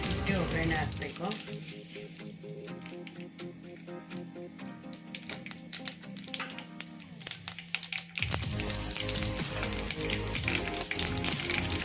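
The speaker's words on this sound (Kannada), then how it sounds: "ಈಗ ಕರಿಬೇವು ಹಾಕೋಣ. ನಾವು ಒಗ್ಗರಣೆ ಹಾಕಬೇಕಾದ್ರೆ ಲೋ ಫ್ಲೇಮಲ್ಲೇ ಇಟ್ಟು ಒಗ್ಗರಣೆ ಹಾಕಬೇಕು." Curry leaves dropped into hot tempering oil over a low flame, just after mustard seeds have popped, for radish sambar. A steady close sizzle and crackle, with light stirring taps and a brighter burst of frying late on.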